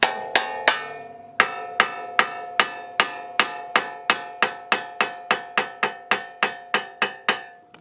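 A hammer strikes the front strut of a 2019 Honda CR-V again and again, making bright ringing metallic taps. The taps come in a steady, fairly quick rhythm of about twenty blows, close and loud, with no talk.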